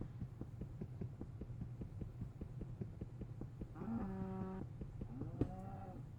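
A cow moos twice in a video game, drawn-out lowing calls over a steady low hum and a regular throbbing pulse, fairly quiet and alone with no talk.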